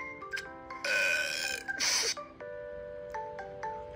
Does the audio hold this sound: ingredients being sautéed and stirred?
no